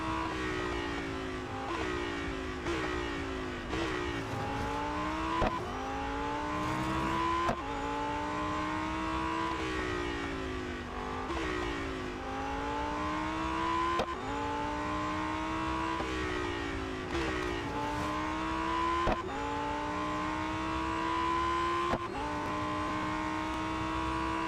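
Race car engines from the Real Racing 3 mobile racing game on a final lap, loud and continuous, with repeated rising revs and sharp gear shifts cycling throughout, no talking.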